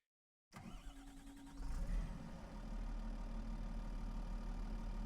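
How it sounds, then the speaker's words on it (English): A JCB machine in a Riverbend Springs logging game starts up from silence, revving briefly before settling into a steady, deep idle that runs on alone. "Look at this. I mean, how beautiful. That giant engine at the rear."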